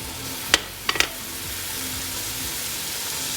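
Garlic and onion sizzle quietly in sesame oil in a wok, a low steady hiss under three sharp utensil clinks against the pan in the first second.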